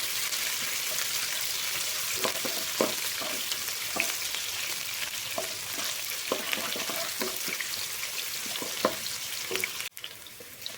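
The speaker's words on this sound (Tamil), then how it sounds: "வெங்காயம் போட்டுக்கலாம் வெங்காயம் வந்து ரொம்ப கலர் மாறுற அளவுக்கு வணக்க வேண்டாம்" Onions sautéing in a pan for a bottle gourd stir-fry, a steady close sizzle and crackle running throughout with intermittent scraping and stirring clicks from a utensil.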